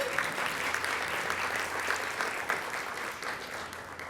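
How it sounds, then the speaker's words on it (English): Steady, dense applause from an audience at an alumni achievement awards ceremony, a continuous wash of clapping heard from some distance, fairly quiet and slowly fading. "Let's give them a round of applause again."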